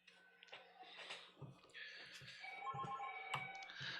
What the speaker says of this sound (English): Would someone please tell people to stop calling my personal phone?